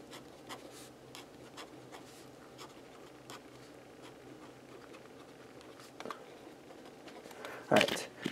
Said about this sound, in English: I'm writing on my post-it